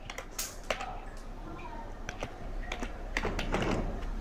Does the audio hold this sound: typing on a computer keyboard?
yes